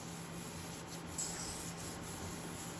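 A baking mat rubbed over paper, a faint continuous scratchy rubbing with a few brief strokes over a low background hum.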